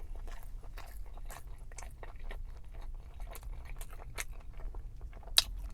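Close, quiet chewing of an Arby's Hushpuppy Fish Wrap, with soft crunches and squishy bites in an irregular rhythm and one sharper crunch near the end; no talking.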